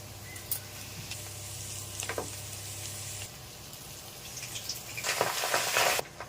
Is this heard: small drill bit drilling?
no